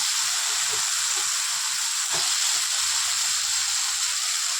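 Vegetables, including sliced flat beans, potato and dried stalks, fry in a pan in a Bengali home kitchen, giving a steady, loud hiss and sizzle that runs unbroken throughout with no talking.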